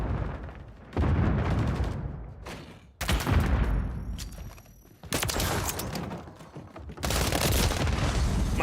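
Gunfire in a video game crashes out in several loud blasts about two seconds apart, each a sharp boom that rings and fades before the next shot, with no talking.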